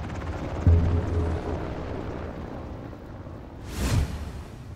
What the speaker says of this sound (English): All personnel on board, prepare for takeoff.